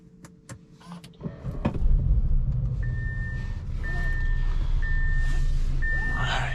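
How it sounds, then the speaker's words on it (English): A 2023 Audi S3 Premium Plus pulls out onto the road with a steady low engine and road rumble that swells after the first seconds, while a short electronic beep repeats four times at an even pace. "Let's get it out on the road and see how it drives."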